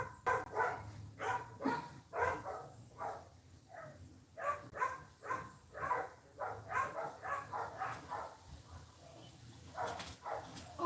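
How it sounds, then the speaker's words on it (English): Several dogs barking repeatedly nearby, a busy run of loud overlapping barks and yips in uneven bursts that continues throughout with hardly a pause. "You'll hear dogs even more than me because it's loud here on this side."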